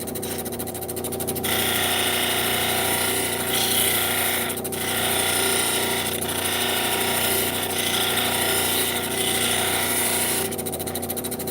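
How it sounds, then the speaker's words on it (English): A polishing machine works the girdle of a cut gemstone, giving a steady, loud mechanical whir with a dense, even texture that holds for the whole stretch and dips briefly a few times. "now we're into the first stage of polishing. On the girdle."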